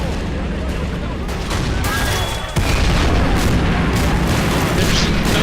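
Explosions and artillery fire in the World War II strategy game Men of War: Assault Squad 2 during a tank battle, as a loud continuous barrage of booms and gunfire, with one sharp heavy blast midway.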